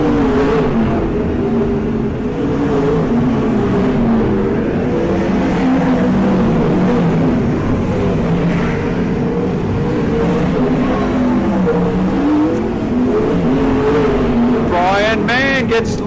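Sprint cars in a feature race at a speedway, a continuous loud engine drone that rises and falls as the cars circle, with a race commentator talking over it.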